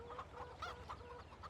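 Chickens in the Farming Simulator 17 farm game cluck softly and repeatedly, short quiet clucks in an uneven rhythm over a low background hum.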